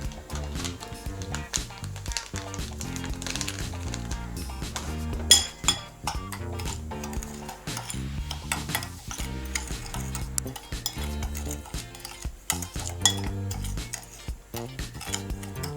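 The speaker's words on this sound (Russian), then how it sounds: "4 столовых ложки сахара мы смешиваем с пачкой корицы." A spoon stirs sugar with cinnamon in a bowl for cinnamon buns, giving repeated close scraping strokes and light clinks against the bowl in an irregular rhythm.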